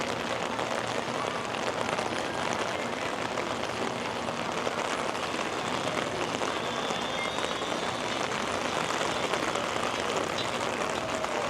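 Steady, dense rain pouring at Magic Kingdom, an even hiss of drops hitting pavement and surfaces all around, continuous and fairly loud with no talking.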